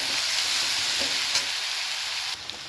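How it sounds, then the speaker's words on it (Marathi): Green chilies sauté in hot oil with garlic for a dill vegetable dish. A dense, steady sizzle plays close by and dips slightly near the end, with no one talking. "छान अशी ओली मिरची ही आपल्याला त्याच्यामध्येच परतून घ्यायची आहे"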